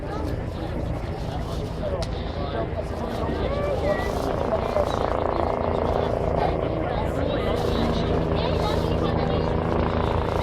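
A helicopter's rotor thrum grows steadily louder and nearer, with voices talking over the noise.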